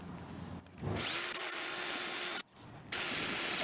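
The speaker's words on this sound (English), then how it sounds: "Harbor Freight step drill here, and we need to take it to 5/8" A power drill whines steadily at high pitch as a step drill bores a 5/8-inch hole into the metal of a 1967 Mooney airplane, pausing briefly before spinning up again for a second loud run.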